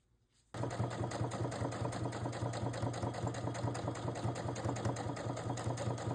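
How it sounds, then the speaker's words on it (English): A sewing machine stitches along a zipper on a boxy fabric bag, starting abruptly and then running in a continuous fast, even whir with rhythmic needle ticking, soft and close, no voices. "we're just going to sew along on both sides right here"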